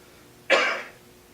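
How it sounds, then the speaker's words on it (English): A single short cough sounds close by, abrupt and harsh, fading quickly into a quiet background. "I'm sorry, I'm coughing crazy."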